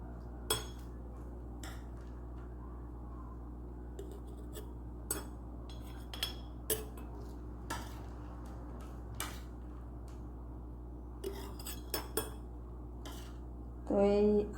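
Dried raw mango pieces are dropped and scraped into a jar. Scattered light clinks and taps ring out against a steady low background hum, with a brief louder clatter near the end.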